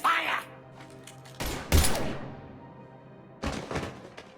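Gunfire erupts in Mass Effect 3 as a few abrupt, loud percussive bursts spaced over a few seconds, with faint tails between them.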